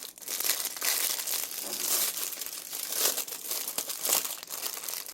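Plastic wrap around a hank of raffia yarn crinkles and crackles continuously as it is pulled open, a close, busy rustling with no pauses and no voices.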